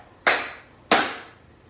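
Two crisp tap-shoe strikes scraping across a hard floor, a brush forward and back, each sharp and bright with a short decay, alone in quiet.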